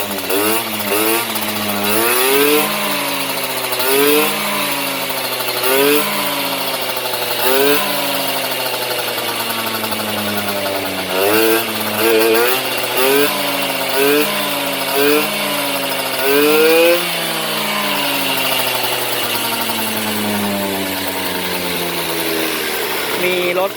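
Honda AF27 scooter engine with a 44 mm piston bore revving repeatedly in a workshop, loud and close, with rising and falling pitch sweeps over a steady idle.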